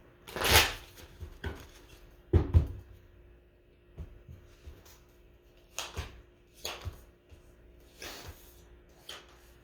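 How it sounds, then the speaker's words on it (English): Soft papery riffles and taps of tarot cards being shuffled, a few short bursts spread out with quiet gaps between them, close by. "last shuffle"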